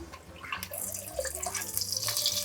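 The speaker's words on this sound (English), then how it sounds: "And I'm going to cover it with 1 cup of water" About a cup of water is poured into a pot over a seasoned pork loin, a steady close splashing trickle for a couple of seconds with no voices.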